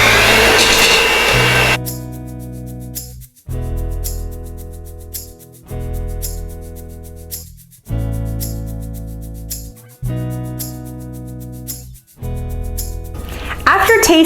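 A motorized whisk or hand mixer beats heavy cream into a custard filling for Nanaimo bars, running loud in repeated bursts of steady whirring broken by short pauses, with no talk over it.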